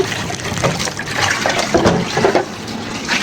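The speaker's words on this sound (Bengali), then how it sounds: "সেই কড়াইটা আর কি ধুয়ে নিচ্ছি" Water runs and splashes steadily as a karahi wok is rinsed and washed, a continuous close wash with no talking.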